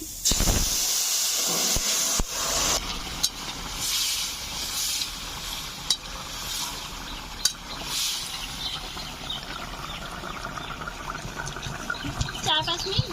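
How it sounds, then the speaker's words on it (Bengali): Fish curry broth is poured into a hot pan holding dried red chillies and nigella seeds, setting off a loud hiss and steamy sizzle that settles into steady bubbling, with someone speaking over it. "এখন দিয়ে দিচ্ছি মাছের ঝোল।"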